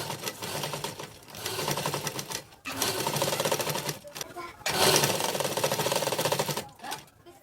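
A sewing machine stitches puff sleeves in steady, loud runs of rapid clatter, broken by short pauses, with a voice speaking at times.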